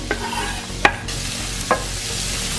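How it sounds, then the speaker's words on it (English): Onions, pepper, thyme and garlic sautéing in a pot beside bok choy, a steady close sizzle punctuated by three sharp clanks of a spoon against the metal. "So you saute this for about 2 minutes or so, just so the onions are still crispy"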